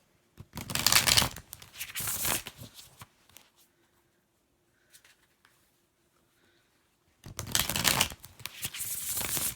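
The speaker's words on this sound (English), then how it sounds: "So we'll shuffle and we'll draw a card" Cards are riffled and shuffled in two quick bursts, a pause of near silence, then another brisk shuffle, close and crisp.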